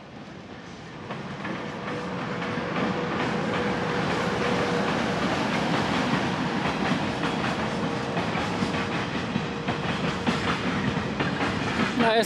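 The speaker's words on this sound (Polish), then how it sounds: "lubię pociągi, bo są duże i mocne" A train passes on rails, rising from a moderate approach to a loud, sustained rumble with rhythmic wheel clicks over the joints and a faint tonal whine, with no talk.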